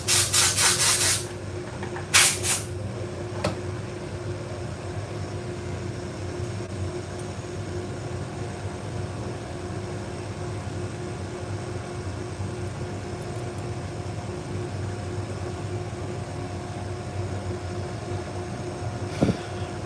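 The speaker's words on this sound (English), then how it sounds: "I'm gonna use the air compressor to blow this out." Air compressor nozzle blowing out salon shears during sharpening, two sharp loud hissing bursts at the start, then a steady motor hum continuing to the end with a faint click near the close.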